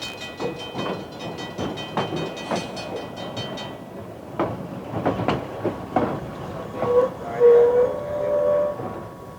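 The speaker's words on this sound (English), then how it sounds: "First, we'll take a peek at some freights as they move around in the train yard." Freight trains moving around a train yard, with a steady rumble, repeated metallic clanks and clicks of railcars, a few squeals of wheels toward the end, and no talking.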